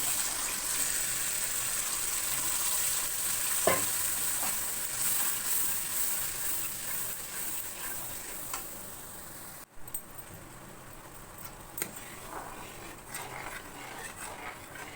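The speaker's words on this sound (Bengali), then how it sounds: "এইবারে যে গ্রেভিটা আমি করে রেখে দিয়েছিলাম এইবারে দিয়ে দেবো।" Prepared gravy for butter chicken poured over fried spice masala hisses in a steady, loud gush of sizzle and steam, then drops to a quieter simmer partway through, with a few faint clinks.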